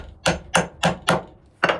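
Hammer striking a nail into a wooden board chair during a DIY build, five sharp close blows in a steady rhythm, the last after a short pause.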